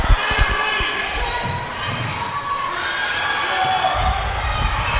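Crowd noise and cheers in an indoor arena during an under-20s netball semi-final, a steady babble of voices with ball bounces and shouts rising over the court sounds throughout.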